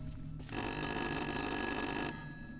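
A telephone rings in the video game Little Hope, a loud continuous electronic bell trill lasting about a second and a half, starting and stopping abruptly against quiet dark ambience.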